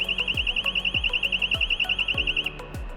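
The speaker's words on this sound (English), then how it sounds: "it's gonna sound the alarm for 5 seconds" A GVS/RPB GX4 gas monitor running its alarm test gives off a loud, rapid, pulsing electronic beep, repeating steadily at about six pulses per second with periodic thumps underneath, then stopping near the end.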